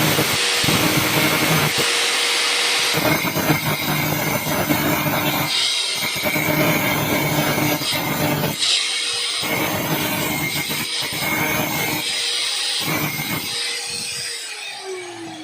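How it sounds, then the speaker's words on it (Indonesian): A grinder works on the CVT of a carbureted Honda Beat motorcycle, a loud harsh whir that starts and stops in several bursts, with some dips in between and fading near the end. "Sedikit lagi kita akan gerinda ya pada bagian aspolinya."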